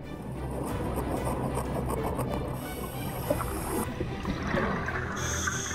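Underwater, a diver saws through a huge tangled ghost fishing net with a hand saw, producing continuous close rasping and scraping strokes with a muffled, watery character.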